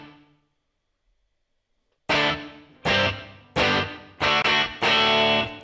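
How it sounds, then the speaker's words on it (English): An electric guitar drenched in heavy reverb plays five loud, distorted chord strikes, each ringing out in a long washy tail, following a faint start and a short silence. "if you add tons of reverb to your sound"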